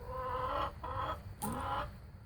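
A hen clucks loudly and close by in three drawn-out, throaty calls, the last rising a little, with no talking.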